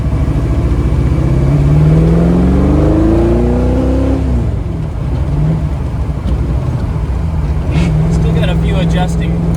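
Lamborghini Diablo driven down the block right after a transmission install, a loud steady engine drone with rising revs and shifting pitch, close and continuous throughout, with some faint clatter near the end.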